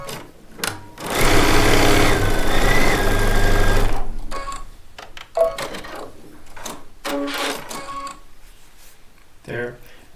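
A sewing machine runs in a loud, steady burst for about three seconds while stitching quilt block pieces from charm packs, followed by short intermittent whirs and clatters with a few soft voices.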